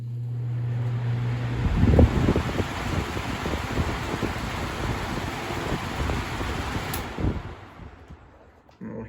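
A 1985-86 Lasko box fan and a 2016-17 Lasko box fan start up together after a hum, settling into a steady broad airy whoosh with faint low motor rumble, close and continuous.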